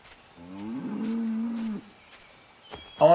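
A cow in the video game Assassin's Creed 3 gives one low, drawn-out moo of about a second and a half, close and clear, followed by brief faint rustles and a short sharper sound at the end.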